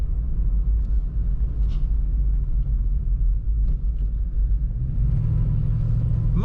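Engine rumble from a mostly stock 1990 Chevrolet Blazer 4x4 heard while driving, a steady deep low drone with a slight rise in pitch near the end, continuous and close with no talk.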